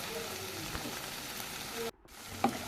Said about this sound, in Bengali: পোস্তটার সঙ্গে ভালো করে নাড়াচাড়া করে নিতে হবে কিছুক্ষণ কষে নিতে হবে